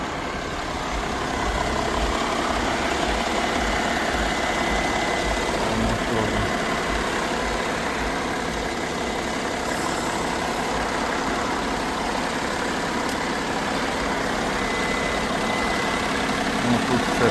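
A 2003 Mercedes W211 E320 engine idles smoothly and steadily at close range, a continuous low rumble with no talk over it.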